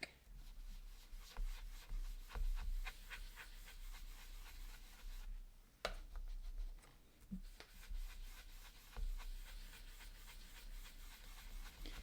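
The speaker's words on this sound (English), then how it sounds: "we'll start blending again from the outside into the cardstock" An ink pad dabs and rubs colour onto cardstock in a steady run of soft, close scuffing strokes, quiet and even, with one sharper tap midway.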